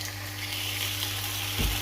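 Five slices of mint-flavoured bacon sizzle and fry in a frying pan, a steady close crackle and hiss throughout with a brief low thump near the end.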